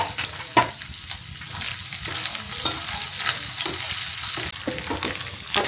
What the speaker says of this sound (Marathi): त्याच्यात मी आता ओलं नारळ टाकते. हे ओलं नारळ पण असंच करायचं, थोडंसं फ्राय करून घ्यायचं,